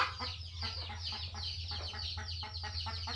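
Chickens cluck repeatedly at close range as they are herded into a new coop on a farm, a steady rhythmic stream of short calls over a constant low hum.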